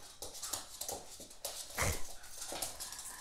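A dog whimpers and yelps in short, high, faint bursts while playing with a cat indoors, the squeals coming in uneven clusters with one louder cry near the middle, no talking.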